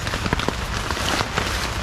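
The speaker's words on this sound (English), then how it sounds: "I think I'm going to just kind of kick back and relax and listen to the rain for a little bit." Heavy rain patters densely on a tarp at a camp in a creek valley, a close, steady hiss broken by scattered louder drop hits, with no one talking.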